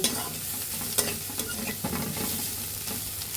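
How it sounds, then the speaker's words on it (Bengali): Beaten egg and carrots being mixed in a frying pan: a dense, close sizzle with quick scraping stirs and a couple of utensil taps, no voices. "এখন গাজরগুলো একসাথে মিশিয়ে দিব"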